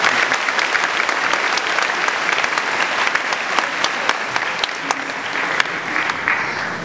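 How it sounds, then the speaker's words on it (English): Sustained audience applause fills a graduation ceremony hall during a valedictorian address, steady dense clapping from a large crowd with a few sharper claps standing out, no talk over it. "a special round of applause to Mr. Peter Domenico"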